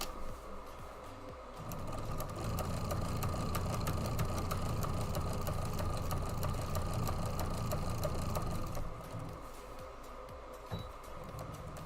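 A sewing machine quilts a quilt, starting up and running at a steady, even mechanical whir for about seven seconds before stopping, with quieter room noise on either side.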